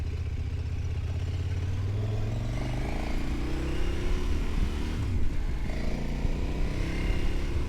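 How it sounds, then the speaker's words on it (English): An off-road capable motorcycle rides along a gravel trail in Morocco, with a steady mid-pitched engine drone that rises slightly in pitch and light crunching clatter from the tires, heard continuously from the rider's position. "That's a good thing I have an off-road capable motorcycle."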